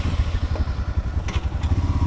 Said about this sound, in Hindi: बाइक पे बैठते हैं और चलते हैं.